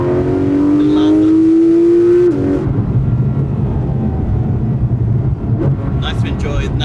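A car drives briskly along a country road, its engine note climbing through a rising rev and then settling into a steady rumble, with a voice talking inside the cabin.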